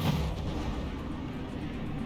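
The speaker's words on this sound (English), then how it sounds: "Some missiles launching from both sides." Missiles launch in the naval combat game From the Depths, a loud booming roar at the start that settles into a sustained rumble.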